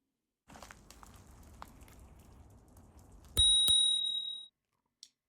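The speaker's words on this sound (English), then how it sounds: "Integrated bell where the brake sits, really convenient to get to. Good sound, works well." Integrated bell mounted at the brake lever of a Pedibal Navigata folding e-bike gives one bright, clear ring lasting about a second after some faint handling noise, followed by a short light second tap.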